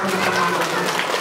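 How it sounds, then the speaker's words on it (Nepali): Applause for a donor at a school event in Nepal, a brief burst of steady clapping under and around a speaking voice. "एकदम ताली पड्काइदिनु"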